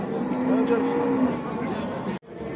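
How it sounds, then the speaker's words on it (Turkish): A cow moos at a busy livestock market in Diyarbakır, a long, low, steady call set against the crowd's murmur and voices nearby. "Şurada güzel bir inek var."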